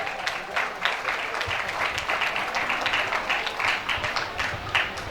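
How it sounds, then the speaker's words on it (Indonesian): An audience gives lively, sustained applause for the Al-Furqan hadroh team at a pesantren farewell event, dense clapping filling the room with a few brighter claps standing out. "Marilah kita tepuk tangan meriah kepada tim Hadro Al-Furqan."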